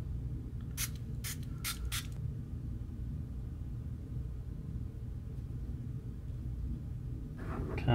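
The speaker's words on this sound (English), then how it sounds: "spray it down." Spray solution is misted onto a Galaxy Z Fold 3 screen protector in four quick hissing bursts, close and crisp, followed by quiet handling noise and a faint rumble.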